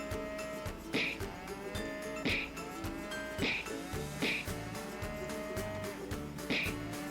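Cows moo repeatedly in the indie video game Heroines of Swords & Spells, several long lowing calls overlapping in a steady series over looping game music, with no talk.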